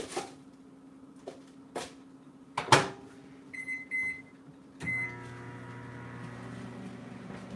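Microwave oven softening the wax of a 14.5-ounce Bath and Body Works Toasted Vanilla Chai candle: a few sharp keypad beeps and clatter, then a steady low electrical hum settling in alone.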